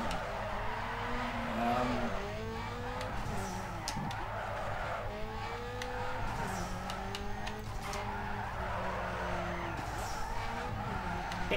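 Tires squeal and skid as a Nissan Skyline drifts around corners in Need For Speed Underground 2, long wavering screeches over a steady engine drone, loud and close throughout.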